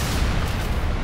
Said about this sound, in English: Blowing my coils for safety.